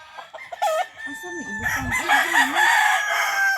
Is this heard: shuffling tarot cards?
no